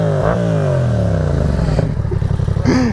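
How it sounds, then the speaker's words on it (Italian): An engine revs loudly up close, its pitch climbing and falling in sweeping surges, with some clattering mixed in and a final rising rev at the end. "Dai, prova, tira una sgasata,"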